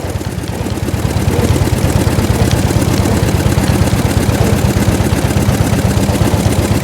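The engine of a 1904 De Dion Bouton veteran car runs on the move, a loud, steady, rapid chugging drone that stays constant throughout, with no one speaking.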